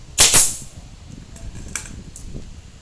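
A staple gun fires into the base of a basket made from split rattan, giving one loud sharp snap near the start and fainter clicks afterward. Someone speaks in Thai at the same time.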